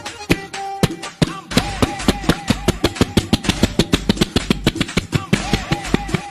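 A voice imitates a generator starting: a fast run of sharp, percussive sputters and pops, loud and near, settling into a rapid chugging rhythm.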